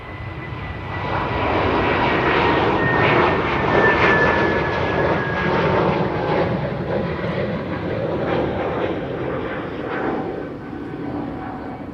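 An Airbus A321neo airliner moves at Amsterdam Schiphol Airport, its jet engines a strong, continuous whine and roar that swells after the first second, peaks midway and then tapers a little, with no talking.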